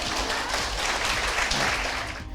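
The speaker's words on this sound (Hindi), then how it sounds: "ताली नहीं बजेगा?" An audience applauds steadily at a wellness talk. The clapping is dense and fairly loud throughout and fades only slightly at the very end.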